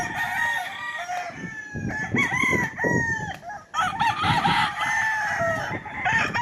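Several roosters at a gamefowl farm on a rainy day crow loudly and repeatedly, their long rising-and-falling calls overlapping, with hens clucking in the background.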